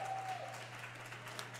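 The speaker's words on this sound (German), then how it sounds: "Die haben jetzt einen Teil verloren und die klatschen." Distant crowd applause at a SpaceX rocket launch heard on a livestream: faint, steady clapping spread across the whole stretch, with no voices over it.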